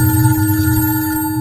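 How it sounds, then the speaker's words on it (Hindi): A telephone bell rings steadily and loudly as a sound effect for about a second and a half, alone with no talking, cutting off sharply at the end. "कुछ दिनों बाद एसआईटी को एक फोन कॉल आती है।"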